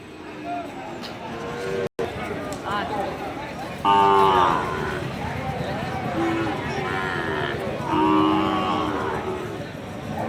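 Cattle, including Sahiwal and Gir calves, moo loudly twice amid a busy outdoor crowd at a border-area livestock market, with people talking and general market bustle throughout.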